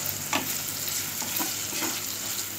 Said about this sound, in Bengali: সামান্য একটু ভেজে নিচ্ছি সেদ্ধ ছাড়া